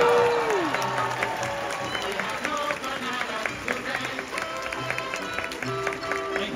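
Crowd applause after a stage magic trick aboard the Icon of the Seas cruise ship, a steady wash of many hands clapping with some cheering, moderately loud and sustained throughout.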